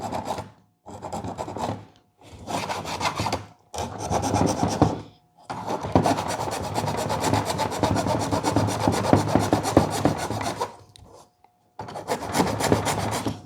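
A hand file rasps along the edges of a dash opening cut for a stereo head unit, in repeated bursts of scraping strokes with short pauses between them and one longer stretch of steady filing, close and fairly quiet.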